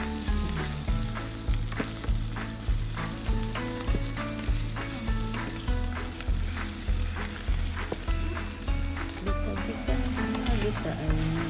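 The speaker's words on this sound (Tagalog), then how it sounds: "Tapos ilalagay ko na ang pork. Ayan na. Tapos gisa-gisa, halo-halo." Pork sautéing with onions in a pan for adobo, a steady sizzle broken by regular scraping and clanking strokes of a spatula as it is stirred.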